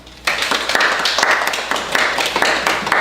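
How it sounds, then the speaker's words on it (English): Scattered clapping from a small group, steady and fairly close, lasting a few seconds with no talking. "Everybody give yourself a round of applause."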